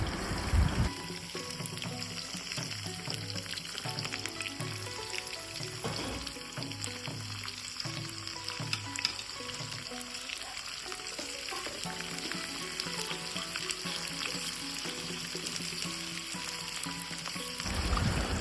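Garlic frying in hot oil for a beef pickle, a steady loud sizzle with bubbling and occasional stirring scrapes running throughout, with no talking.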